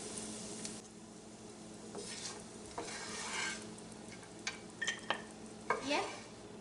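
Nuts frying in a pan for sheer khurma, a soft steady sizzle with scattered clinks and scrapes of stirring, close and fairly quiet, with no talking.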